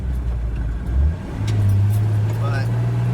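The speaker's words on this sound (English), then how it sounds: "there goes a welding truck. A nice one. Got a Lincoln Ranger 225 on the back" Welding truck carrying a Lincoln Ranger 225 welder driving by on a road, its engine a loud, steady low drone that swells as it passes close, with faint background sounds and no clear talk.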